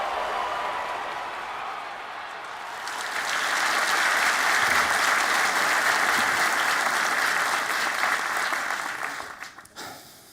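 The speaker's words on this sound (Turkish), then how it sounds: "Seyirci çok az alkışladı seni" A studio audience applauds at a Turkish talk show, with loud, dense, continuous clapping that swells after a quieter start, holds steady, then fades out near the end.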